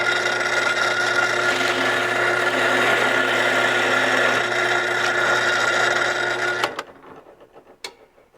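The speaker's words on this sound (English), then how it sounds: "we're just going to drill straight down through." A power drill grinds steadily through wood for several seconds, then cuts off abruptly, followed by a few light knocks and clatters.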